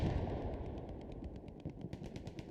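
Bombing run in the World War II shooter Hell Let Loose, a loud dense barrage of rapid gunfire and booming impacts, heavy low rumble throughout with sharp repeated bursts toward the end.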